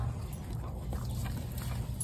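Pet dogs whimper and shuffle about nearby indoors, soft whines over a constant rustle of movement with no one speaking.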